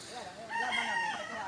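A fighting rooster crows one loud, drawn-out call at close range, its voice rising and then holding before trailing off. There is no talking.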